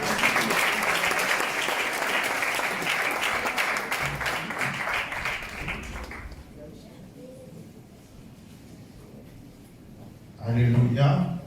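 A church congregation at a launch service breaks into loud, sustained applause and cheering to welcome the pastor, fading after about six seconds into a quieter hall before a voice rises near the end.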